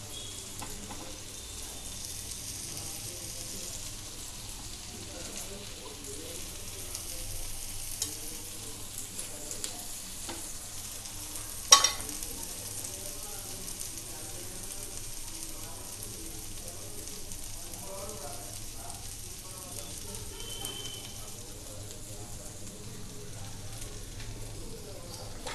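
Chicken tikka kebabs fry in a pan with a steady, quiet sizzle that continues throughout, and a single brief clatter near the middle.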